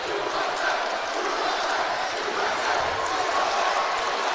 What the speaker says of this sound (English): Just listen to the crowd here, sectional atmosphere.